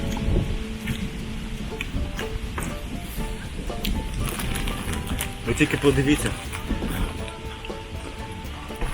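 Rain patters steadily as a thunderstorm passes over a park, with a voice speaking over the downpour and a louder burst of noise midway.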